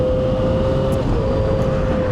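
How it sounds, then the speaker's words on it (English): A Porsche drives past a motorcyclist in city traffic, its sound blended into steady, loud road and wind noise with a constant engine drone and no clear rise or fall. "Nice Porsche."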